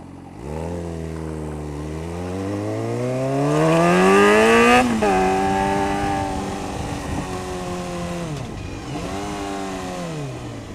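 A Suzuki GSX-R 600 motorcycle engine revs up steadily to a high, loud peak, drops sharply, then holds a strong mid-range drone with a further dip and recovery, sounding close and with no talk over it.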